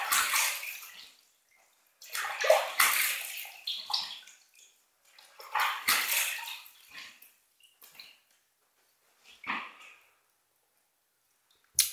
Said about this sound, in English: Okay, I'm going to rinse.